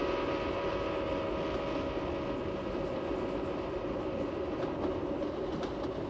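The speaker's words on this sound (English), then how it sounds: "if you're standing alongside the track when the train passes, you hear that familiar shift in pitch" A train passes alongside the track in a steady, loud rumble of rail noise and wheels that fills the whole stretch; no distinct whistle tone stands out, so the pitch shift is not evident.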